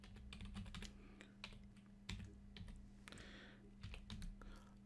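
Keys clatter on a computer keyboard as a Skype username is typed into a contact search, a quick uneven run of close clicks with short pauses over a steady low hum.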